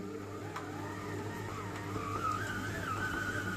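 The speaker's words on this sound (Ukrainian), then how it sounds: "Міксер у мене сильний, так що він замішує, все перемішує." Powerful electric stand mixer kneading stollen dough, a steady close motor hum with a whining pitch that shifts as the dough works, fairly quiet.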